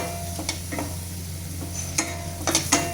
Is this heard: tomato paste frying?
yes